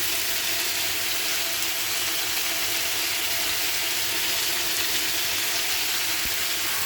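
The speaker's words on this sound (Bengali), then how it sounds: "এক এক করে বড়াগুলো ভেজে নেবো" Onion fritters (boras) fry in hot oil on a gas stove, a steady, close sizzling hiss that holds even and unbroken throughout.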